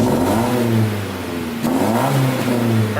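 A car engine fitted with a washer exhaust mod revs repeatedly, rising and dipping in pitch at close range with a raspy exhaust tone and no talk.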